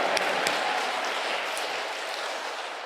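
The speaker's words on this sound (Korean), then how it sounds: "우리 한번 할렐루야로 하나님께 영광의 박수 한번 돌리겠습니다" Church congregation applauding together in a steady, dense wash of clapping that holds evenly and eases slightly toward the end, with a couple of sharper claps standing out near the start.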